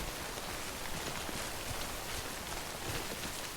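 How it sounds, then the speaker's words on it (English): Timefall rain pours steadily in Death Stranding on PS4, a dense, even hiss of falling drops that holds at constant loudness throughout with no voices. "this area is always raining"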